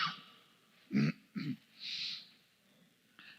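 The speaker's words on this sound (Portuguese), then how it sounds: "quando eu começo com essa tosse" A smoker's cough: two rough, separate cough bursts close to the mic, then a breathy exhale and a short final throat sound, with no talk.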